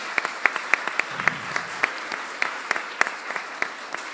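Applause at an Alameda County District Attorney candidate forum, a continuous bed of crowd clapping with distinct sharp claps from nearby hands standing out irregularly above it.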